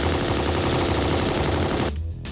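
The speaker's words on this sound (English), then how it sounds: "Tohsaka's gander shots are loud enough now that I'll have people calling the cops" Rapid, loud bursts of magical Gandr shots fired by Tohsaka in the Fate/Stay Night Unlimited Blade Works visual novel, a dense machine-gun-like barrage that runs continuously for about two seconds before cutting off abruptly.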